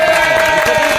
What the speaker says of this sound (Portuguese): palmas pra ela aí.